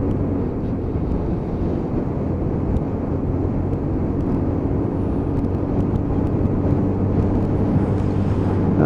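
A Lexmoto Titan motorcycle rides down into town, with a steady, close engine hum and broadband road and wind rush running throughout, without speech.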